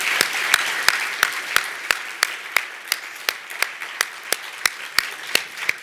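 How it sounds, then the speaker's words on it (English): Scattered applause for a project team at an awards presentation, with a steady wash of clapping punctuated by sharp individual claps that ring out in an uneven rhythm, moderately close throughout. "Please give these guys a huge round of applause."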